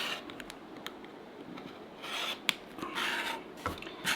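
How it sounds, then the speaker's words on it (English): A fabric quilt block is trimmed down to a 3-inch square, giving quiet, close rasping strokes that grow more frequent in the second half, with no talking. "and now I'm going to trim again."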